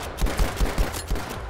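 Rapid automatic gunfire in Battlefield 5, a steady burst of about eight punchy shots in quick rhythm, loud and close with no talk over it.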